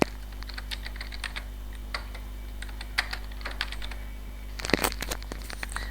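Typing on a computer keyboard, a run of light, irregular key clicks close by over a low steady hum, with a cluster of louder taps near the end and no talk.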